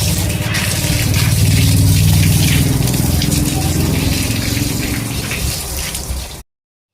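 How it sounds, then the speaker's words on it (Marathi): Water is sprayed across the floor at a house doorway, a loud, steady rushing gush close by that holds for several seconds before cutting off abruptly, with no speech. "दारात पाणी मारून घेतलं त्यानंतर रोडवर पण घेतलं"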